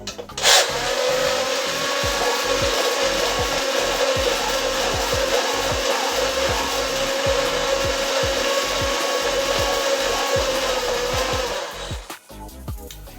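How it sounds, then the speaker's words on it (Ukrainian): A steady, buzzing immersion blender motor whir runs continuously with a rough churning texture as it mixes warm milk with sugar, then cuts off near the end. "трішечки збиваємо погрузним блендером"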